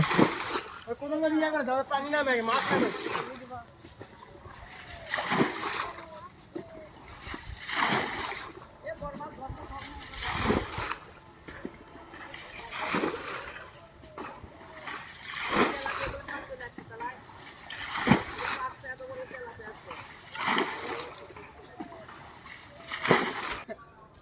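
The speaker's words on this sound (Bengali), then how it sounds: "সেই হুসাকে আমরা সেনি বানিয়ে পানি সেচতেছি" A hand scoop flings water out of a nearly dried village pond during cold winter-morning fishing, sending sharp splashes and sloshes in a steady rhythm every two to three seconds, fairly close and loud.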